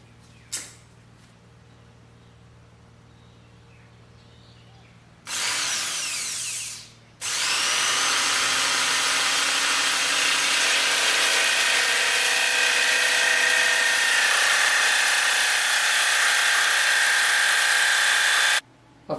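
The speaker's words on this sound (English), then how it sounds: "All of it was done with a Dremel." A Dremel rotary tool cuts windows and drills holes in painted computer case side panels, a loud sustained high-pitched whine in two bursts, a short one then a long steady run of about eleven seconds, with quiet gaps between.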